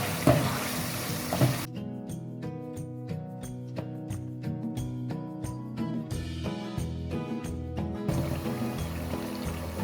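Mutton sizzles with yogurt in a karahi, a steady frying hiss heard alone at the start and end while music plays over the middle stretch.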